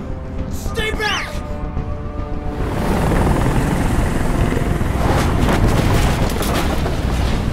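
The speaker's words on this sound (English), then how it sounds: "Tell that helicopter to get out of here!" Helicopter hovering in the video game Detroit: Become Human, a loud, steady rotor roar that swells after a few seconds, with a shouting voice briefly heard at the start.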